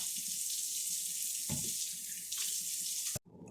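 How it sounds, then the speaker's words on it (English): Hands washed under a running kitchen tap at the sink, a steady close hiss of flowing water with a couple of splashy shifts, then the flow stops abruptly near the end. "Wash hands now."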